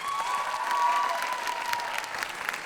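A studio audience applauds steadily, a dense wash of clapping from many hands at moderate loudness, with a faint tonal whistle or voice briefly over it.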